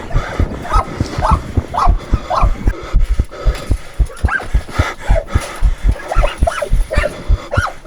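A large pitbull barks in loud, close bursts, short repeated woofs in a ragged rhythm mixed with yips and low growls.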